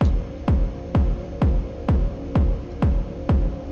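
A distorted kick drum sample shaped by a low filter and EQ hits eight times at a steady, even pace, each punchy thump with a booming low tail, loud and alone.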